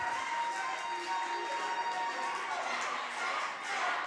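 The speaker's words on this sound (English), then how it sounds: "the Vision Orion starting the applause for Jack Maguire" Crowd cheering and applause fill a wrestling arena during a CWF Championship match, a dense steady roar with whistles and shouts that stays loud and continuous throughout.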